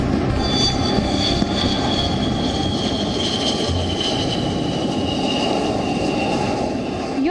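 Indian Air Force fighter jets touching down on the Purvanchal Expressway, a steady loud roar of jet engines that holds throughout with a faint high whine above it.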